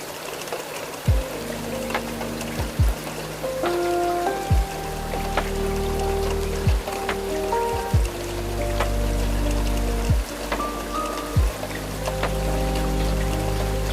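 Steady rain falls on glass, a soft constant patter with scattered drops, alongside a train's rumble and repeated low thuds and tones throughout.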